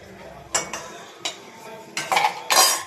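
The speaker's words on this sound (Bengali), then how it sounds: "তেলটা গরম হয়ে গেছে, এবার আমি এভাবে পাঁপড়গুলোকে ভেজে নেব, উল্টিয়ে পাল্টিয়ে" Several scattered metallic scrapes and clinks of a utensil against a pan as papad is turned in hot oil, with a faint background hiss.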